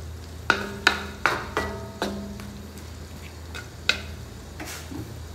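A metal spoon stirring Baguio beans and boiled eggs in a pan, several sharp ringing clinks against the pan in an uneven rhythm, close up over a soft background hiss.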